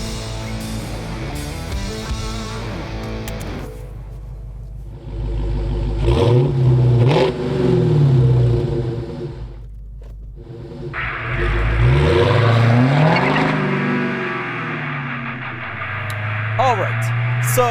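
A 2020 Dodge Charger SRT Hellcat Widebody accelerates hard, its supercharged engine rising in pitch through gears with a whining surge, loud and close from inside the cabin, briefly easing off before roaring up again.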